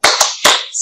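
A classroom of people performs a rhythmic spirit clap, sharp unison hand claps landing in a quick patterned beat, loud and close, with no talking.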